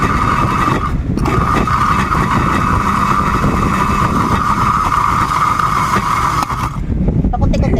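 Blender motor running loud and steady while blending tomatoes for homemade tomato paste, a sustained whine with a brief dip near the start and cutting off near the end.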